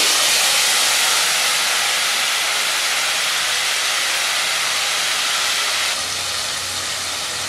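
Medium-sized tomato paste hitting a hot pan of tempered spices for a Bengali potato and papaya curry, an intense loud hiss of sizzling that stays steady and then eases slightly near the end, with no voices.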